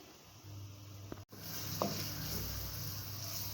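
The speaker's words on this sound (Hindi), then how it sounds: "अब हम इसमें 1 टेबल स्पून मक्खन ऐड करेंगे और इसे फ्राई करेंगे" Onion and a tablespoon of butter frying in oil in a pan, a steady soft sizzle with a couple of brief clinks from stirring, close and fairly quiet, with no talk.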